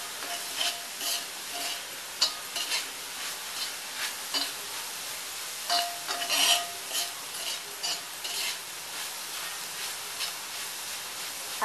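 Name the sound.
coconut being burned on a cast iron tawa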